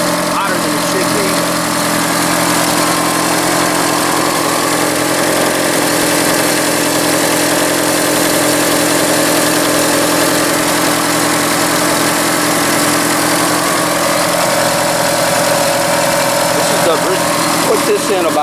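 A 1982 third-generation Chevrolet Camaro V8, run from a fuel cell, idling at its first start in 20 years: a loud, steady, close engine rumble throughout, with someone talking over it.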